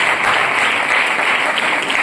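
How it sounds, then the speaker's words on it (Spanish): A church congregation breaks into steady, continuous applause, a dense wash of many hands clapping with no voices rising above it. "Un aplauso para el Señor"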